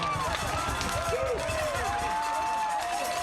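A home crowd at a Jackson Broncs American football game cheers and roars in a steady wash of noise, with a commentator talking over it.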